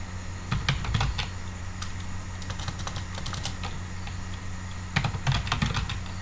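Typing on a computer keyboard while entering text into a Microsoft Word document, with quiet irregular key clicks in short bursts and pauses, close and soft, with no speech.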